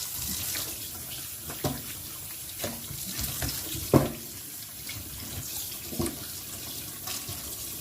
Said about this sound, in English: I'm gonna run some more water over the chicken.